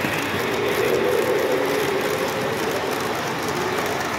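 A Lionel model train runs steadily along its track, a continuous whirring rumble with a faint motor hum and no voices.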